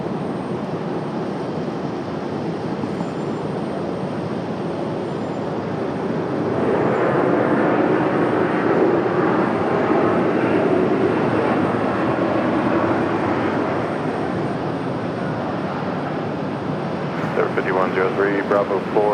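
Heavy jet aircraft at Raleigh-Durham International Airport in the evening, a sustained broadband engine roar that swells in the middle and holds, with radio chatter from air traffic control heard over it.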